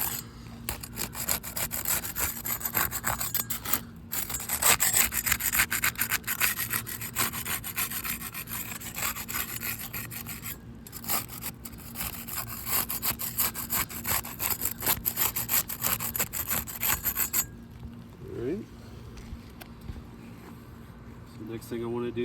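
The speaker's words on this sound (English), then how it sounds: "First thing we're going to do is separate the shingles using this putty knife." Putty knife working between old roof shingles, a close, continuous scraping and rubbing that runs through most of the clip, with a few brief pauses and a quieter stretch at the end.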